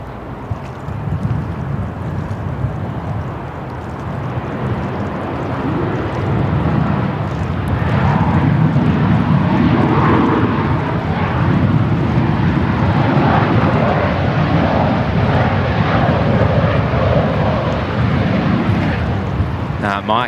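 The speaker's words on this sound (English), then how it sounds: "Qantas 466 touching down here in from Melbourne" Qantas jet touching down at Sydney Airport after a flight from Melbourne, a loud sustained engine roar building and holding near the microphone, with wind buffeting.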